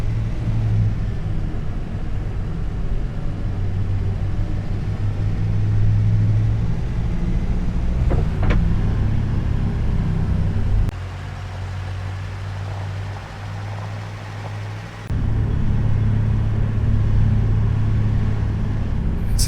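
Steady engine drone of a farm vehicle driving through a forest in a farming video game, a continuous low rumble with brief shifts in tone midway, no talking.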